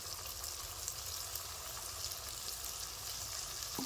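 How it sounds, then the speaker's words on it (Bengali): Ground spices, among them cumin, coriander, black pepper, red chilli and Kashmiri chilli powder with salt, fry steadily in oil for a mutton curry, making a soft, continuous close sizzle with no voices. "এখন আমি মশলাটাকে ভালো করে কষিয়ে নেব।"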